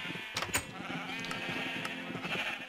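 Sheep bleating in Minecraft while being sheared, a few short bleats standing out over a steady bed of game music, fairly close and moderately loud.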